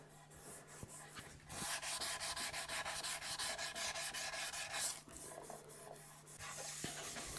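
Sandpaper rasps steadily across the primer coat on a Squier Stratocaster guitar body being refinished, in long continuous strokes, close and fairly loud, with a brief pause midway and no voices.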